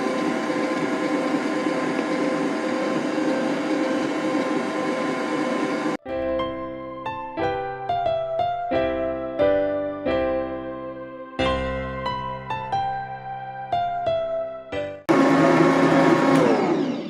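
An electric hand mixer beats German chocolate cake batter in a bowl, a loud steady whir that drops to a stuttering, pulsing rhythm midway before resuming at full speed, close and continuous with no voices.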